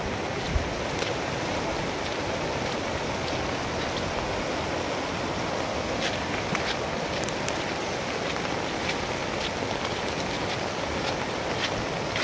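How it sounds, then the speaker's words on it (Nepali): A swollen, flooded river in Nepal after heavy rain roars with a dense, constant rushing wash of water, loud and unbroken throughout, with no voices. "बाढी चाहिँ एकदम बढेर झन् उड्ने थाल्यो खोला"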